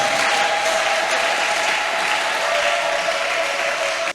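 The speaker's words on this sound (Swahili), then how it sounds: "Applaudissez pour vous-même." A church congregation applauds itself at a bishop's sermon, a steady wash of clapping held for about four seconds under a faint sustained tone, then cutting off abruptly.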